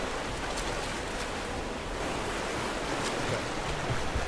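Steady rushing water roars in Rise of the Tomb Raider, a dense, unbroken wash of noise that holds at an even level throughout with no voices over it.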